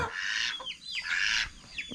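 Chickens cluck and call on a farm at feeding time, a couple of close, bright bursts of fowl vocalizations separated by a short pause, with no talking.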